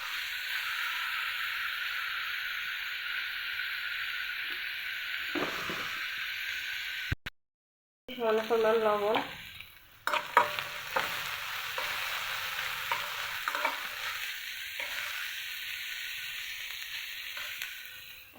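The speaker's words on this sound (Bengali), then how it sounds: "ফ্রাই প্যানে আমি এখন রসুন কুচি আর পেঁয়াজ কুচি আর মরিচ দিয়ে সরষের তেল দিয়েছি। সরষের তেল ভেজে নিচ্ছি" Garlic, onion and chili sizzling in mustard oil in a frying pan, a loud, continuous hiss broken by a brief stir and clatter midway, with a short spoken line near the end.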